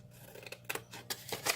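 Scissors snipping through paper card while cutting out a handmade card box, a few short crisp cuts in irregular rhythm, close and fairly quiet.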